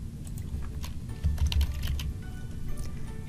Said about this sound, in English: You can use your keyboard to start typing the first few letters of the client's last name